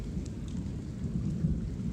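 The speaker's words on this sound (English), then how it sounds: "It's getting a bit louder. The lightning's coming a bit back." Steady rain and a low rumble of thunder from a summer storm in Kansas, a continuous broadband wash with deep rolling energy and no voices.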